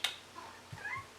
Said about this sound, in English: My cat wants to say hello.